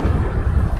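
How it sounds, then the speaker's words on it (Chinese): A loud, close rumble of thunder during a storm in a GTA 5 zombie mod, one deep continuous roll filling the whole moment. "哦，超大雷声的"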